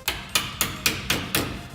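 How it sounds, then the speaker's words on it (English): Six sharp, evenly spaced hammer taps drive a pin into a Nerf Hammershot blaster, each strike close and crisp with a short ringing decay. "I'm just gonna hammer that in a bit"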